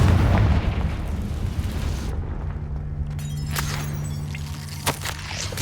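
Confringo fire spell in the Hogwarts Legacy video game, a heavy booming blast at the start that fades into a rumbling tail, followed by crackling bursts and sharp pops.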